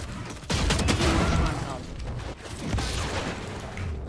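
Gunfire rattles in the tactical shooter Valorant, with loud, dense bursts of shots close by in two main waves, and a voice may be faintly mixed in.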